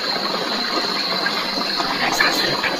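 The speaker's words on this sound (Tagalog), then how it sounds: "kahit maingay yung tubig" Outdoors near bamboo, noisy rushing water gushes and bubbles in a continuous, moderately loud wash with a faint steady hiss and no clear voices.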